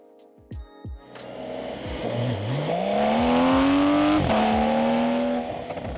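A Speed Yellow Porsche 992 GTS driving on Mulholland Highway, a few short engine blips and then a loud, close, sustained climb in revs as it accelerates, with a brief dip at a gear change.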